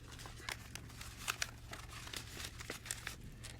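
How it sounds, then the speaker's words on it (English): Artificial foliage leaves for a casket spray are folded over into a rosette, giving faint, close plastic crinkles and soft crackles in irregular bursts against a quiet background hum. "The next steps are easy because we'll take 3 leaves and simply fold them over"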